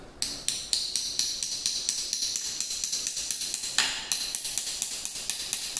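Steady hammering as a part is driven onto a Hyper 9 electric motor for a Ford Escape EV conversion: a rapid run of sharp metallic taps, roughly five per second, close and loud, with no talk.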